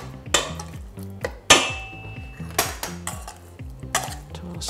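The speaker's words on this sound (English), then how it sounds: "Toss the shrimp." Shrimp tossed with taco seasoning in a bowl, with repeated clinks and clatter of a utensil against the dish, several louder knocks among them, close and without speech.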